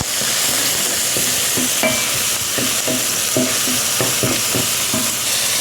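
Onion sizzling in hot oil after garlic for a chicken dish, a steady loud frying hiss broken by repeated spoon scrapes and clinks against the pan, close up.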